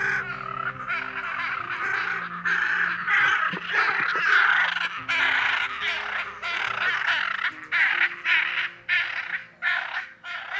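Macaws calling in a wild flock, a steady stream of loud, harsh squawks and raucous cries close by, overlapping and continuing with no pause for about ten seconds, with no talk.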